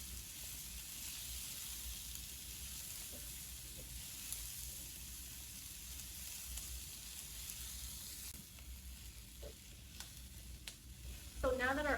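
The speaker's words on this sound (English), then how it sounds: "we're going to cook this until the onion is translucent" Chopped onion sautés in a pan for jollof rice with a soft, even sizzle heard faintly and continuously, with a few light utensil clicks and a louder clatter near the end.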